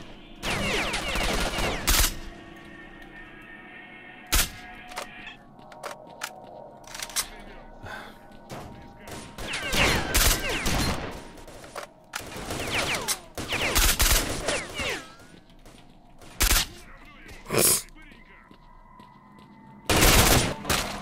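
Gauss rifle gunfire in the video game STALKER Shadow of Chernobyl: several sharp, loud isolated bursts spaced irregularly over quieter game ambience, with someone talking between some shots.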